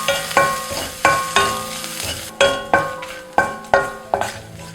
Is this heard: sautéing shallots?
yes